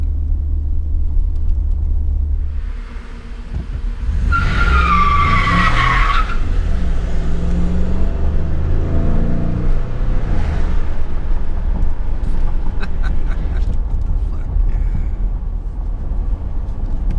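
A Ford F-150 pickup skids on dry pavement with a loud, sharp tire squeal lasting about two seconds, wrapped in a steady roaring engine rumble that later fades, with no voices.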